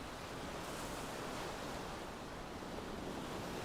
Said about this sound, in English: The waves are washing in, gently washing over the beach, and then flowing back out again.